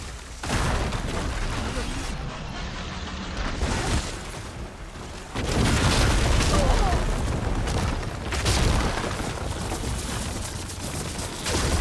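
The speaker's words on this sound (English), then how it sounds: "Hopefully the Gnark will fire a few shots from that ballista." Heavy booming shots from a machine-mounted ballista in Horizon Forbidden West erupt in loud bursts over a continuous wash of combat noise and music.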